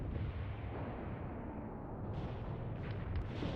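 Mortar rounds fire rapidly and shells impact in a war video game, a dense continuous rumble of blasts and booms, loud and unbroken throughout.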